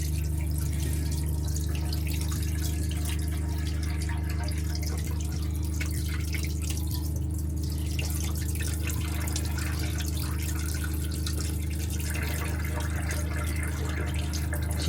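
A motorhome tap runs steadily while the water heater is tested, a continuous close hiss and trickle of flowing water with a low hum beneath, unbroken for the whole stretch.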